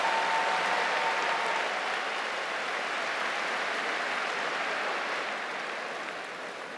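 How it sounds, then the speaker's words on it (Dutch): A full concert hall audience at a big birthday concert applauds in a sustained, dense wash of clapping that slowly fades toward the end. "dat jullie nog één keer een applaus krijgen van de hele zaal hier"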